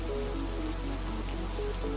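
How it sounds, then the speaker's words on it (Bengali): Continuous cartoon rain patters in a steady, uniform wash, with faint tonal sounds underneath and no break. "এরপর একটানা বৃষ্টি হতে লাগলো।"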